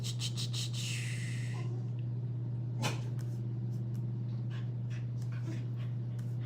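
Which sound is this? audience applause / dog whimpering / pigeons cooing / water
dog whimpering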